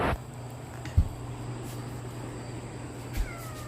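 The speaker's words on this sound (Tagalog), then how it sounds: "Ayan ang pusa." A cat meows in a home where a dog is also present, a few brief cries rising above a low steady hum, moderately near and without talk.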